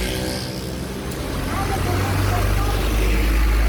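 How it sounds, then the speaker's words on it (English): A heavy truck rumbles past on a street in Pereybere, Mauritius, its low engine roar swelling loud and close over the last couple of seconds amid general traffic noise, with people talking underneath. "that loud noise of that truck going past"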